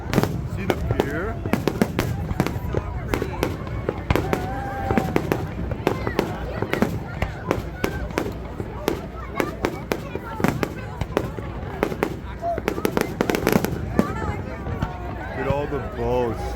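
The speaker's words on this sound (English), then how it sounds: "Canada Day fireworks, guys!" Canada Day fireworks explode over a pier crowded with boats and yachts, a loud dense rapid string of sharp bangs and crackles with excited voices talking throughout.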